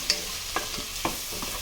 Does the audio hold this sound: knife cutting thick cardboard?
no